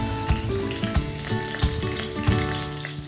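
Chopped lemongrass frying in hot oil in a wok for a duck curry, a steady close sizzle with repeated soft knocks and scrapes of stirring, no voices.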